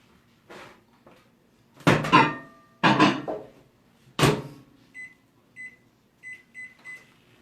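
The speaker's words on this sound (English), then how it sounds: "this is all going to go in the microwave for about 16 minutes" A kitchen microwave oven being set to cook a no-stir risotto, with door and cupboard clunks and handling knocks, then a run of short beeps as the keypad is pressed, nearby and clear.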